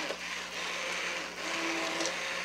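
An immersion blender whirs steadily as it purees mushroom bisque soup, a close continuous motor drone with a brief dip in the middle before running on.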